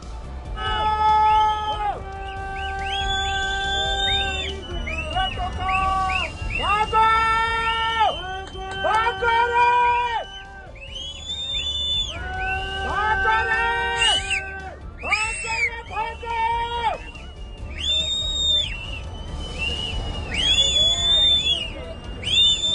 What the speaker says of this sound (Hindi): तो ये जो सीटियों की आवाज आप सुन रहे हैं